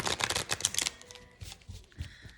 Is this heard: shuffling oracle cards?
yes